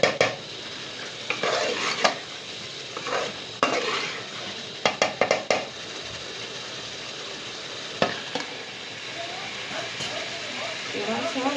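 Ginger-garlic paste frying for chicken karahi, with repeated stirring and clinks of a utensil against the pan over a steady sizzle, sharp scraping bursts coming in irregular clusters.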